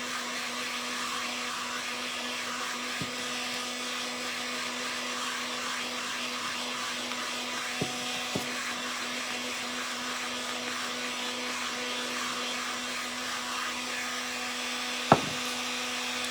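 An electric dryer blows steadily to dry a paint inlay on a ceramic piece, a continuous whooshing whir with a constant motor tone, interrupted by a few faint knocks.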